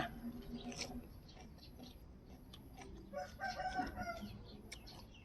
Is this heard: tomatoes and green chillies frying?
no